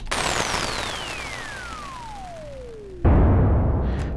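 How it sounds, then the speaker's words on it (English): A synthesized firework blast made in Reaktor 6 opens with a long descending whistle sweeping downward through delay and reverb, then a second burst of noisy crackle and rumble hits near the end. "you'll hear more of that initial explosion and the sweep in the delay and the reverb"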